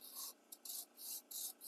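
Steady back-and-forth rasping of a sanding block on a surface, five or six rhythmic strokes with brief pauses between, close and fairly quiet.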